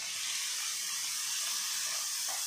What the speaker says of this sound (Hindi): अब इसमें हम लोग बारीक कटा हुआ प्याज डालेंगे